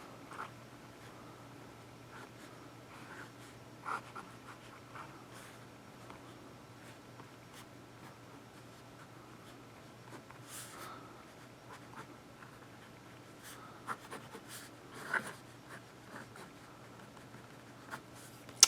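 A pen scratches quietly across regular paper while doodling, a faint, continuous scribbling with soft intermittent taps and strokes in a quiet room.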